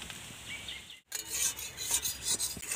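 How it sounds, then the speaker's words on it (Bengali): A spatula scrapes and stirs boiled milk in a wok, giving a near, steady rasping rub with a brief pause partway through. "আমি কিছুক্ষণ এভাবে ভালো করে নেড়ে নেব, যাতে কড়ার গায়ে দুধটা লেগে না যায়"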